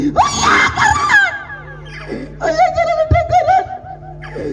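A woman screams loudly and at length in a Bhojpuri film scene as the hero's sister's scarf is pulled away, her wailing cry rising and falling over about four seconds amid the film's dramatic soundtrack.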